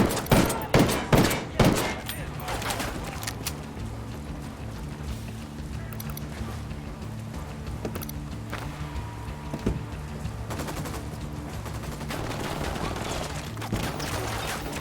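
Gunfire erupts in Ghost Recon Wildlands: a few loud, close shots open the clip, followed by a sustained rattle of distant firing over a low rumbling game background.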